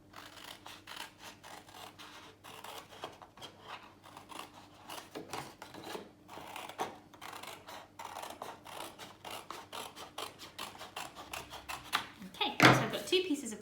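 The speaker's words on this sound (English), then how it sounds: "So I'm just going to cut along there." Scissors snip through card to cut a band for a handmade Christmas crown, giving a steady run of close, crisp cuts with a louder crunch near the end; a voice is present in the background.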